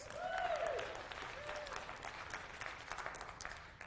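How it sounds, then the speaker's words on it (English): Audience applause after a motivational talk, a steady wash of many hands clapping at moderate distance, fading slightly over a few seconds with a brief tonal sound near the start. "Give yourselves a round of applause."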